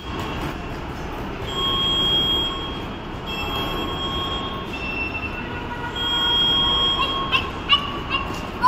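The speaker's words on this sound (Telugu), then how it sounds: "ఇప్పుడు జాడహల్లి నుంచి మేము మెట్రోలో వెళ్తూ ఉన్నాము" Interior of a metro train in Bengaluru on a ride from Jadahalli, with a steady rolling rumble and faint high electrical whine throughout, plus a few brief clicks and squeaks toward the end.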